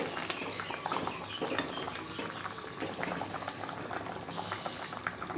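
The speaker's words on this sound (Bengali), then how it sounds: "পাঁচ থেকে 7 মিনিট ধোকাটা ফুটবে।" A pot of dhoka, Bengali lentil cakes, bubbles steadily in curry sauce, a constant close simmering gurgle with soft pops and no voices.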